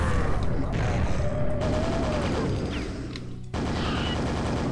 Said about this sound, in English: Did they change the super nail gun?